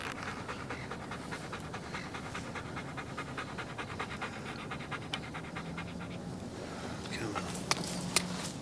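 A dog pants steadily and rhythmically at close range for several seconds, with faint footsteps and quiet background noise.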